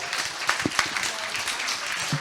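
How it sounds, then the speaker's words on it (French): Audience applause for the panel speakers at a round-table forum, a broad diffuse wash of clapping with a few sharper claps, moderately loud and steady throughout. "je crois qu'on peut applaudir nos intervenants"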